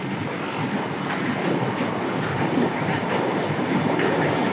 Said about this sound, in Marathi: रेल्वे आलेली आहे.